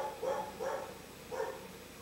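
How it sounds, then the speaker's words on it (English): A pet dog barks in a house, giving three short barks in a loose rhythm, faint and somewhat distant, with no talk over them. "Sorry about the barking, my dog."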